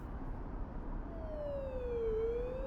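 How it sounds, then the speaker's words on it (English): A distant siren wails faintly, sliding slowly down and then rising again over a low rumbling background, heard alone without speech. "I could hear sirens in the distance."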